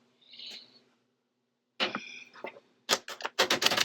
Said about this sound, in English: I'll shuffle again.